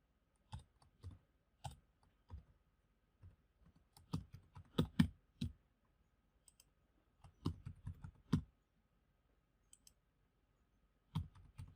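Keystrokes on a computer keyboard while typing a name into an account sign-up form, in short irregular bursts of clicks separated by pauses, fairly quiet and close, with no talking.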